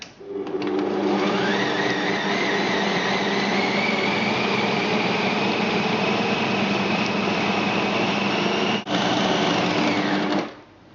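A mixer blends ginger loaf cake batter in a steady, loud motor whine that runs almost unbroken for about ten seconds, with one brief dip near the end before it stops.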